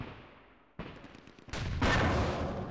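Gunfire from a machine gun unit and a tank in a World War II strategy war game: a sharp shot, a pause, then louder bursts swelling into sustained firing to the end.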